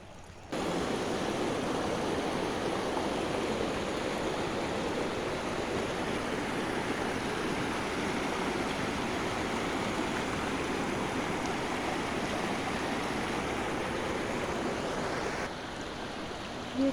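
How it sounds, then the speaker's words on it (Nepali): Clean water flows steadily in a stream, a close, continuous broadband rush that holds even throughout with no voices. "मैला पानीको होइन, यसरी खलल बग्ने पानीको हो।"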